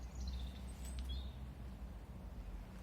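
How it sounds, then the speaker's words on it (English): A blackbird sings a few faint, high whistled phrases from a distance over a low background rumble outdoors near a medieval arch. "can see a blackbird."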